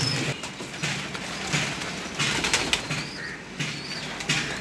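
Female pigeons flutter and shuffle nearby, with soft wing flaps and faint cooing over a quiet background, in irregular bursts throughout.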